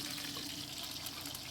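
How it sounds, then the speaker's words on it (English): Deer heart frying in hot beef tallow, a soft, steady sizzle and faint crackle from the pan, fairly quiet and continuous, with no voices. "you can hear that really sizzling"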